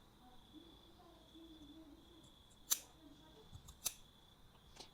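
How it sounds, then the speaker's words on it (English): Scissors snipping a triangle into tailored women's jacket fabric, a few quiet separate cuts close by against a faint background hum, with no voices. "I'm going to cut this triangle now"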